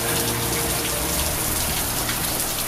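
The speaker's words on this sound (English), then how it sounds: "Sometimes you just gotta build a fence in the rain." Heavy rain pours steadily outdoors at a fence-building site, a dense, constant hiss of drops close by with no talking.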